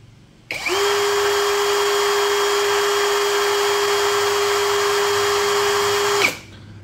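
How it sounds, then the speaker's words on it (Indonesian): A Doliz BD617 cordless brushless impact drill runs in drilling mode at speed setting 1, starting abruptly into a steady, loud motor whine with a constant tone, then stopping sharply about six seconds later. "Langsung kita uji RPM. Pada kecepatan nomor 1 terlebih dahulu, modenya mode drilling."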